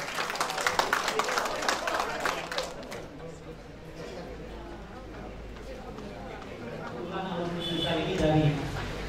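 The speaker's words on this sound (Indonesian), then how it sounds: "Tepuk tangan dong buat beliau nih" At a political declaration gathering, scattered clapping from an audience starts close and fairly loud, then thins into chatter and crowd murmur, with voices talking through it.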